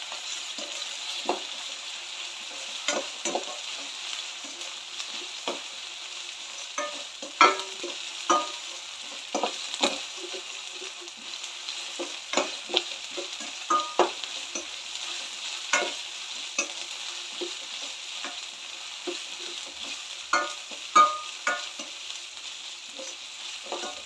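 Masala being sautéed in a pan for egg curry, a gentle steady sizzle broken by frequent scraping stirs and light taps of a spoon, close and quiet, with no one speaking.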